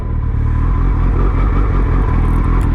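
Suzuki Hayabusa motorcycle engine running a little lean near idle, a steady close and loud throbbing rumble with slight rises in revs and mechanical clatter throughout.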